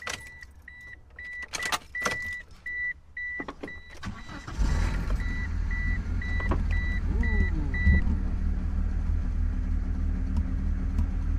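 Clicks and a repeating electronic chime, then a second-generation Mitsubishi Eclipse (DSM) engine cranks and catches, settling into a steady, close idle rumble.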